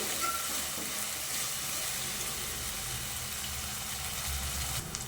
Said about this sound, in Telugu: ఇది పచ్చి వాసన పోయే వరకు కొద్దిగా వేపుకోవాలండి అల్లం పేస్టు